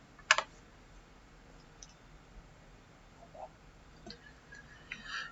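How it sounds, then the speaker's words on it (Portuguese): A computer mouse gives a quick, faint double-click near the start, followed by a few softer isolated clicks in a quiet room. "Então eu vou dar 2 cliques aqui em MDE REC."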